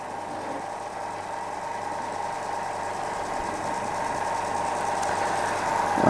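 A Corrigan & Higgins Improved Model No.101 model steam engine runs on compressed air, a fast, steady mechanical whir and chatter that stays even and close throughout, with no talk.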